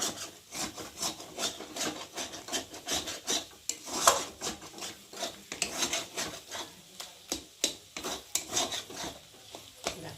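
Potatoes being stirred with a metal spatula in a pan during a shortcut Maggi cooking session, heard as close, irregular scraping and rasping strokes in quick succession with faint frying underneath.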